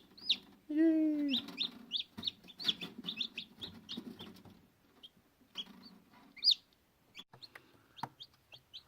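Newly hatched chicks peep in high, short repeated cheeps, scattered and fairly close but soft, with a louder adult hen cluck early on and some faint background sounds.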